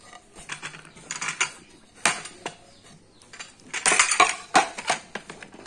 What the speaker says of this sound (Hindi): उठाते हैं बर्तनों को।